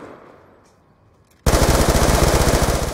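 Rapid automatic gunfire from the video game Black Ops 2 bursts in suddenly after a quiet moment, a loud, dense rattle of shots that continues steadily to the end.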